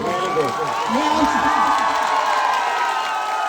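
A crowd gathered for a public welcome in Laxmipura, Hindoli, Bundi claps and cheers, a dense, continuous wash of noise with voices talking over it.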